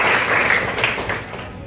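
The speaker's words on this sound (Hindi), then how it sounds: "वेरी गुड, तालियां बजाओ।" Schoolchildren clapping in a classroom, a short burst of group applause that starts fairly loud and fades slightly over under two seconds.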